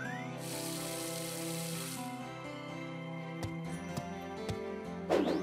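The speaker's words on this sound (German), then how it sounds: "Alles schön gießen." Watering crops in the farming video game Harvest Moon: a steady hiss of poured water runs for about two seconds, followed by soft game tones and small clicks, then a brief splashy burst near the end, with no talking.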